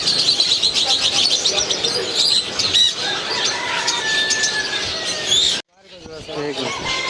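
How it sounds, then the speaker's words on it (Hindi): Doves and other caged birds at a busy bird market, with repeated chirps, squawks and coos over constant crowd chatter and people talking, cutting off abruptly near the end before resuming. "पाकिस्तानी डव है भाई ये।"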